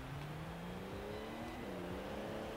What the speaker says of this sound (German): 6-Zylinder-Boxermotor mit 4 Liter Hubraum